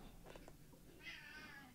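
A cat meows faintly nearby, a short low call followed by a longer, higher drawn-out meow, against quiet room tone.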